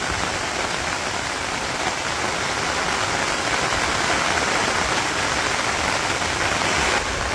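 Steady rain falls over a Bangladeshi village, a dense, even hiss of drops on surfaces that stays constant and fairly loud throughout, with no voices.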